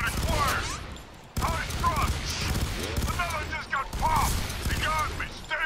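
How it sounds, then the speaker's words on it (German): Gunfire in the video game F.E.A.R. 3 pops in a rapid, loud flurry of shots mixed with mechanical weapon clatter and dense in-game noise across the whole stretch. "die drei Schüsse haben gerade noch gereicht"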